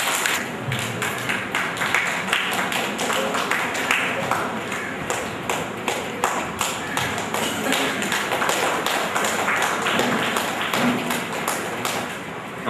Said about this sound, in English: Please give a very big clap.